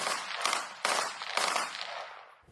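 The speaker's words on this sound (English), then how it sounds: "that's the sound of gunfire that we can hear from over the border?" Bursts of gunfire from across the Israel–Lebanon border: several sharp cracks and short rattling volleys in quick succession, echoing from a distance with no talk.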